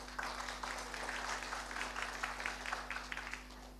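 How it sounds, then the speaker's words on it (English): An audience at an education innovation forum gives steady, fairly faint applause with scattered individual claps, over a constant low electrical hum. "Please welcome them with a huge round of applause."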